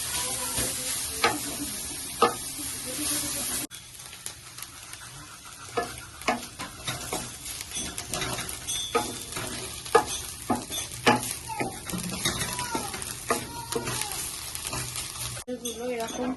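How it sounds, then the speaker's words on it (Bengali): Carrot halwa being stirred in a pan over a low flame, a spoon scraping and clicking against the metal in irregular strokes over a soft, steady frying sizzle, close by with no talk. "তারপর আঁচটাকে লো ফ্লেমে দিয়ে এটাকে নাড়তে হবে।"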